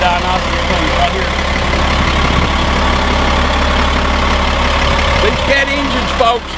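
A Caterpillar diesel engine idles in a truck, a steady low rumble that runs throughout at close range, with some voices talking faintly underneath.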